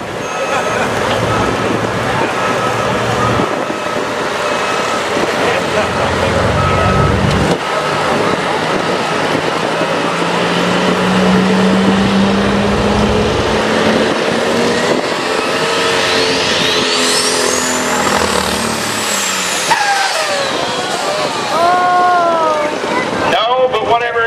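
A modified pulling tractor roars continuously during a run at a county fair tractor pull in Illinois, loud and sustained with rising engine pitch near the end, while an announcer talks over it.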